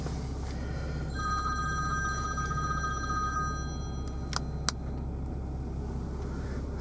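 A phone ringing through the Bluetooth system inside a 2017 Porsche Macan 3.0 V6 GTS, a repeated electronic ring tone over a low steady cabin hum, followed by two sharp clicks.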